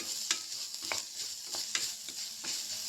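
Pasta frying in a pan with salt added, a steady close sizzle broken by several sharp scraping stirs spaced about half a second to a second apart.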